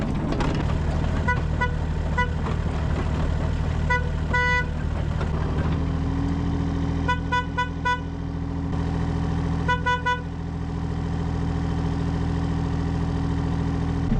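An old tractor engine runs steadily with a low droning rumble, joined by several short clusters of bright horn-like toots and clicks, close and continuous throughout.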